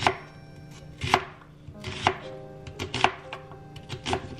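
A knife chops a yellow onion into bite-sized pieces on a cutting board at home. The cuts come as roughly five sharp, close strokes about a second apart, with no talking.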